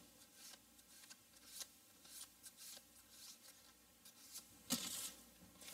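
Oversized tarot cards from the Beautiful Creature Deck are shuffled by hand in a series of soft, close riffling bursts in an irregular rhythm. A sharper flurry comes near the end, with no talk.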